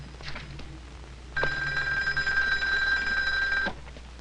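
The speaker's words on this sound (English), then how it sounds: "Let me catch the phone." A telephone bell on a vintage 16mm film soundtrack rings in one continuous burst of about two seconds, loud and close over faint background hiss.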